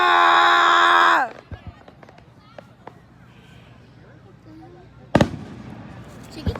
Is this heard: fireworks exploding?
yes